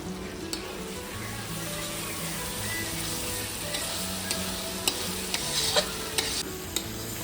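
Spiced masala with chopped tomato, green chillies and salt frying in a pan, a steady sizzle under repeated scraping stirs and a few sharp utensil clicks near the end.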